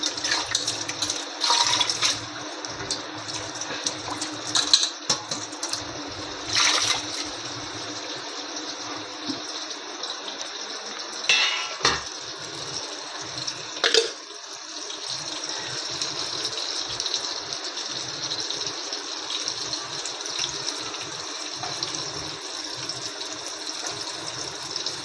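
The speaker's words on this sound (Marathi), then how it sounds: "ताट धुवून घेते" A plate washed under a running tap, a steady hiss of flowing water for the whole stretch with occasional clinks and splashes of handling, no talk.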